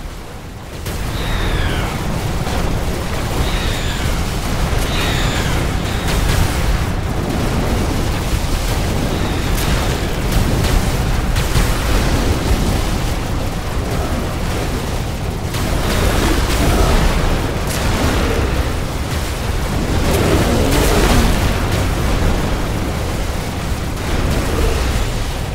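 Continuous, dense explosions rumble through a base under attack in The Riftbreaker video game, a loud sustained roar of booms and blasts that never lets up, with faint synthetic tones layered over it.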